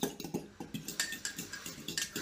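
Eggs whisked in a bowl with a metal utensil for microwave eggs, a quick run of light rhythmic clinks and scrapes, close and fairly soft.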